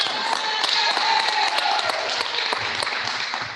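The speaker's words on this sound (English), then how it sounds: "give her a round of applause" Sustained applause from a school assembly crowd greeting Miss Rogers before the school song, dense and steady clapping throughout with faint voices mixed in.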